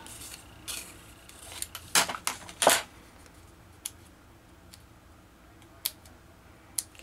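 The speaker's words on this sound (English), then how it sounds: "let me cut a bigger piece of transfer tape" Scissors snip through a sheet of transfer tape for vinyl lettering, a few sharp close cuts clustered together followed by scattered light ticks and rustles of the tape, with no talking.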